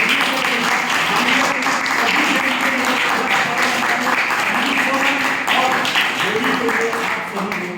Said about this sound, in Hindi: एक बार जबरदस्त तालियां चाहिए